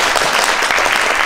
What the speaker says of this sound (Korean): 큰 박수 다시 한번